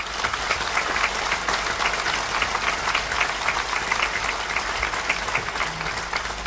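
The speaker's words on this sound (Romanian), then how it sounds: "Și aplaudați-o." Sustained applause from a theatre audience at a Romanian National Day music show, greeting a dancer; dense, steady clapping fills the whole stretch at an even level, with no voices over it.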